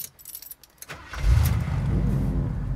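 A home-built hot rod starts moving off, its engine rising into a loud, steady low rumble after about a second of quieter handling noises, then holding close and strong.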